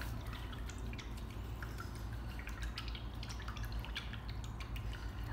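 A paintbrush being washed in water during acrylic painting, with continuous close swishing, dripping and splashing sounds and no talking.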